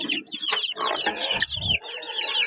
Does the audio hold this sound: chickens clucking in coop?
yes